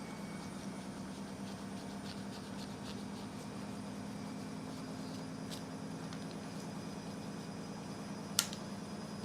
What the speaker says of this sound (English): I apologise if you can hear the washing machine running in the background.